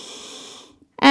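Deep breathing during a HIIT yoga workout: a long, airy exhale fades out over most of a second, a short pause follows, then a sharp new inhale begins close to the mic.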